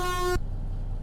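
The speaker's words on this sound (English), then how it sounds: "Yep, air horns." Air horn on a Mack Ultraliner truck in American Truck Simulator gives one loud, steady, rich blast lasting about a third of a second and stopping abruptly, followed by a low engine idle rumbling on alone.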